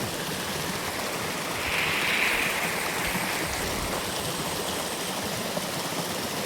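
Water rushes steadily across flooded farm fields, a broad, continuous hiss and roar with no pauses, loud and close, with no voices over it.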